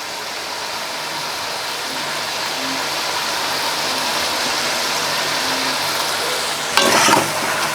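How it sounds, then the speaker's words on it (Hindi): Chicken karahi with yogurt is stirred in a frying pan over a steady sizzle, with soft scraping strokes. Near the end comes a brief louder clatter. "अब हम इसको अच्छे से मिक्स कर लेते हैं।"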